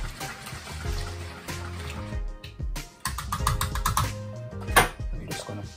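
Liquid is poured over bread for bread pudding, an irregular trickling and splashing with clattering kitchen sounds and tonal hum, moderately close throughout.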